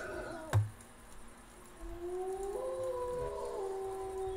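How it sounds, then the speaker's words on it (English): Howling in a Halloween-themed video game, a faint, drawn-out eerie wail rising and wavering over a low ambient drone, preceded by a single sharp knock. "Here's some howling."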